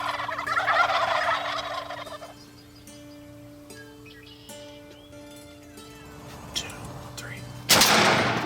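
Wild turkey gobbles sound outdoors, a loud rattling burst early on and later ones farther off, over a steady background hum with faint shuffling, ending in a sharp loud crack.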